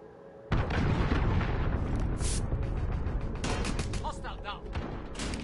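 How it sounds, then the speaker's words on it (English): An enemy cruise missile explodes in a Call of Duty match: a sudden loud blast followed by a long rumbling roar, with game sounds and voices over it. "The best fucking enemy cruise missile."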